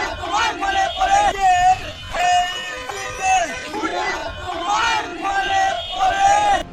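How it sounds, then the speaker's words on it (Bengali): A small crowd of party workers at a BNP march in South Keraniganj chants slogans in Sheikh Mujib's name. Loud, rhythmic call-and-response shouts repeat in waves at close range. "মাত্র কয়েকজন কর্মী নিয়ে বের হওয়া ওই মিছিলে হঠাৎই শেখ মুজিবুর রহমানের নামে স্লোগান শোনা যায়"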